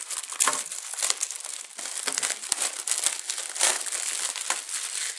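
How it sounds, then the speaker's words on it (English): Plastic wrap crinkles and crumples continuously as a God of War III Ultimate Edition box is unwrapped, close and fairly loud with sharp crackles throughout. "Right, unwrapping of the box."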